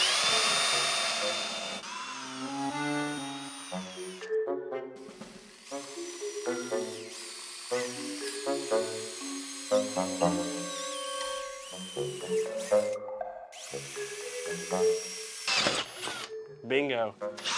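A robot-driven drill bores into the thin metal of a cheap safe, its whining motor rising and falling in pitch through repeated bursts, close and fairly loud, while people talk over it.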